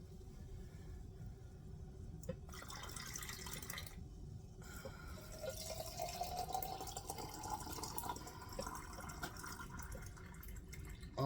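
Water poured into a jar of pinto beans for a fiesta ranch bean recipe, a quiet, continuous filling sound with a gently rising pitch as the jar fills, heard alone.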